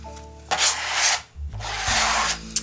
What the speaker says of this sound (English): I'm using a scrape tool because I kind of like the structure it gives me.